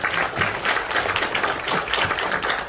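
A crowd claps in a hotel banquet hall during a launch ceremony for the Korean Peninsula Peace Summit in Gwangju, producing a steady, moderately loud wash of applause with slight swells throughout.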